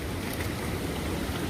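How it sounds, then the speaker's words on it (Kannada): Water rushing steadily at a temple site in Devarakolli, Coorg, a broad continuous wash with no talk over it, loud and close throughout. "ನೀರು ಯಾವ ಥರ ಹರಿತಾ ಇದೆ ನೋಡೋಕ್ಕೆ ಅದ್ಭುತ"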